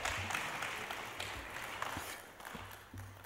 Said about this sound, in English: Wasn't the kind of applause you would hope for